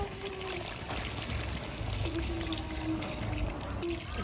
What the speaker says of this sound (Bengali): মাংস কষানো হয়ে গেছে জল দিয়ে দেবো